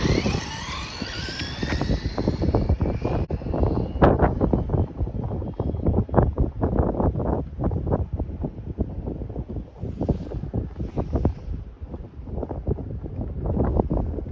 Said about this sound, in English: we got a strong headwind right now